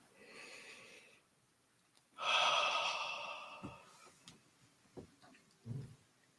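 Quiet, close breathing during a guided meditation practice: a faint breath at the start, then one long, deep exhale that fades slowly, followed by soft small breath sounds and light nasal noises.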